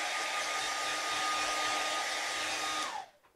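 A hair dryer dries paint on a tin bucket, running as a loud, close, steady whoosh with a faint tonal whine, then powering down and fading out at the end.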